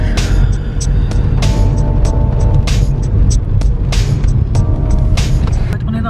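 The cabin of a moving car on a rainy day carries a steady, loud low rumble of road and engine noise, with short sharp ticks recurring throughout.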